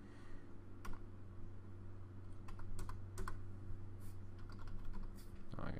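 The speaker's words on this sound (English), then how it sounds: "New password typing." Keystrokes on a computer keyboard as a new password is entered during game setup, irregular clicks over a steady low hum, fairly close and moderately loud.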